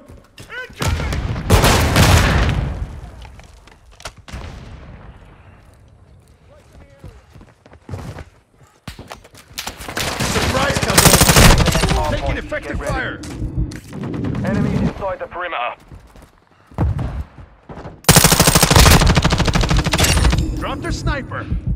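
Gunfire in Call of Duty: Modern Warfare II Hardpoint mode, bursts of automatic fire and heavy shots in irregular loud clusters with quieter gaps, mixed with soldier callouts.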